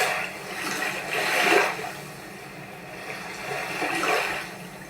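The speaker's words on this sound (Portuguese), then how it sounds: "vamos abaixar aqui o volume da água para que ele fique mais suave" Running water sound effect, a gurgling rush like a toilet flush that swells twice, moderately loud with a low steady hum beneath, no speech.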